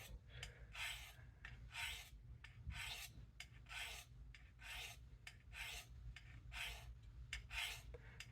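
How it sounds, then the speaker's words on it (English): Knife edge drawn repeatedly across ceramic sharpening rods, about a dozen quiet, evenly spaced rasping strokes in a steady back-and-forth rhythm, close and alone. "take these ceramic rods and go over this. The sharpened wedge."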